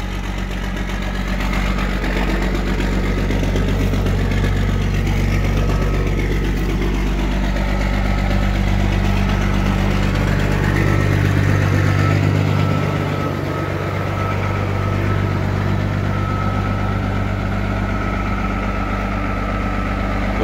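A semi truck's heavy diesel engine idles roughly after a cold start, a loud, deep, continuous rumble heard close for the whole stretch with a slight dip in tone partway through.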